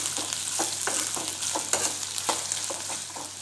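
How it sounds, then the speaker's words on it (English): Ginger frying in oil over a low flame for a South Indian ginger tamarind chutney, a steady sizzle broken by regular scraping stirs, close and with no speech. "So now I'm going to add ginger in this."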